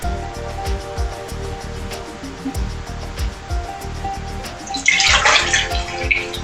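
Water splashes and sloshes in a large bowl, with steady low swirling under a soft hiss that rises into a louder, brighter splash near the end; no one speaks.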